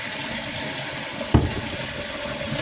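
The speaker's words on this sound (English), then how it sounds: "pans washed out so I can put them up." Tap water runs steadily into a kitchen sink while pans are washed. A constant, mid-level hiss carries a single brief clank partway through.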